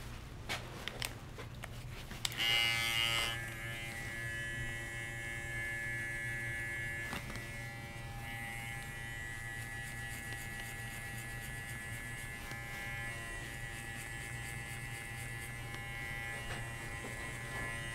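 Electric hair clipper buzzing steadily at close range through a haircut, a continuous motor hum with brief louder bursts as it bites into hair near the start, no talking.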